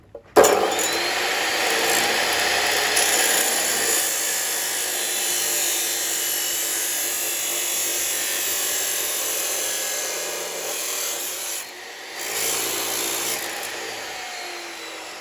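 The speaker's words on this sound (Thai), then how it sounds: "เราก็เอามาลงเครื่องตัดเลยนะครับ ไฟเบอร์" A fiber cut-off saw grinds steadily through a walk-behind tractor exhaust pipe, a loud, sustained abrasive whine with sparkling high hiss that holds for most of the cut, briefly dips near the end, then resumes.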